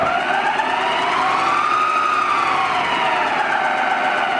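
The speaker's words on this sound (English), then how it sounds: "the spindle motor running" A machine spindle motor spins up and runs with a steady whine whose pitch rises slightly and then settles, loud and continuous throughout with no talking.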